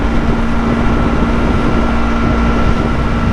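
A Yamaha R3 motorcycle engine holds a steady, loud drone while riding, with constant wind rush layered over it and no voices.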